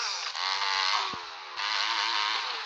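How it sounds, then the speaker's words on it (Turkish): Motorcycle engine in the game Dirt Xtreme, a continuous high-pitched buzzing whine that revs slightly and holds steady, loud and close with no talk. "motorun sesi muhteşem"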